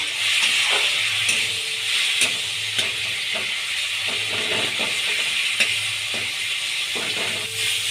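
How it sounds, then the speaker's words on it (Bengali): Chopped tomatoes, turmeric and chopped coriander sautéing with a little water for a low-oil cabbage dal, a constant soft sizzle and hiss with light stirring scrapes, close and unbroken, no voices. "কুচিয়ে রাখা টমেটো দিয়ে দিলাম, 1 চামচ হলুদ গুঁড়ো, কুচনো ধনে পাতা, অল্প পরিমাণে জল দিয়ে কষিয়ে নেব।"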